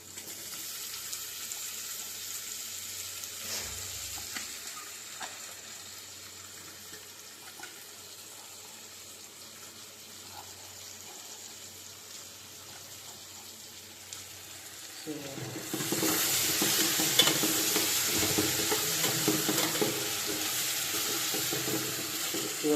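Chopped tomatoes frying in a pan while being stirred, with soft sizzling and scraping that grows louder and brighter partway through, over faint low background noise.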